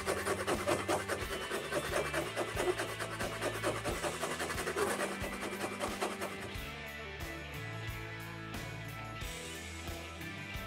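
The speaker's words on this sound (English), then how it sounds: "Use a rasp and then sandpaper to bevel the blade." A rasp files along the edge of a wooden Arakh scythe blade to bevel it, a steady rhythmic scraping and rubbing heard up close, loud at first and gradually softening over the stroke sequence.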